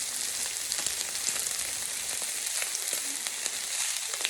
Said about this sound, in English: we're going to flip our pieces of pork belly because you don't want it to be burnt